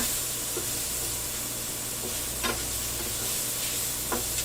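Garlic, onion and bacon sizzling in a pan for keto chicken curry, a steady frying hiss with a few brief crackles and stirring scrapes, close and fairly loud, no voices.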